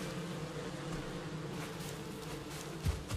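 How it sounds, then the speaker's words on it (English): Bees buzzing around a newly placed beehive in the video game Valheim, a steady low continuous hum with faint background ambience and a small thump near the end. "so let's put these bees down"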